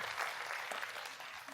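A crowd at a panel event on Singapore's electoral future gives a round of applause: sustained, fairly close clapping from many people, steady throughout.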